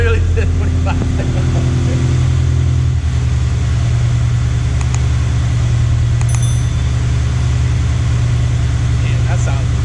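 A Subaru BRZ engine with a new JDL exhaust header runs steadily at a low, throaty idle, loud and close, with a slight change in pitch early on and people talking over it.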